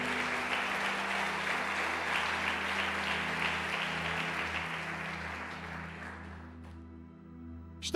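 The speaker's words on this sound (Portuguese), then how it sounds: "Dê um aplauso ao Senhor pela palavra dEle." A church congregation claps together in sustained applause that slowly thins and fades out, loud and steady with no speech over it.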